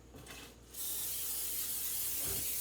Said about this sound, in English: I'm going to spray this pan and then I'm going to put parchment paper in here